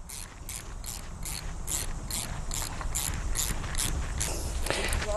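A clamp is tightened onto an electric fence earth rod with a rapid series of ratcheting clicks, regular and close, over a low background rumble.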